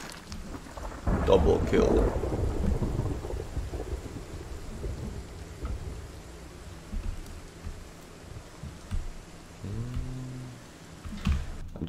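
Thunder and steady rain in the zombie survival game Project Zomboid, with a loud rumbling thunder roll early on, then continuous rainfall, someone talking over it and a few in-game clicks near the end.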